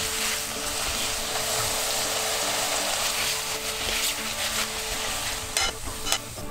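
Shrimp fry in garlic-infused olive oil for Spanish gambas al ajillo, a steady close sizzle with occasional stirring scrapes and brief sharp pops near the end, no voices.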